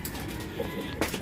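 Racing pigeons cooing softly while eating peanuts, a brief low coo and faint rustling close by, with no talking.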